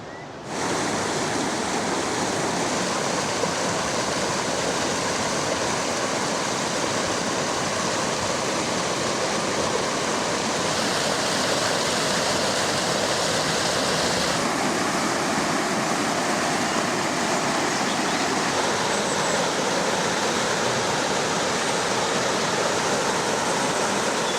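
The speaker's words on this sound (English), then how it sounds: "You can hear the river behind me." Steady, dense rushing water fills the whole stretch, a constant broadband roar like a river flowing close by, with no voices.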